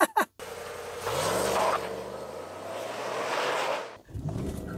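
A supercharged Cadillac Escalade with 465 wheel horsepower launches hard, its engine note rising in a long, loud climb that keeps building without letup. Excited voices react briefly at the start.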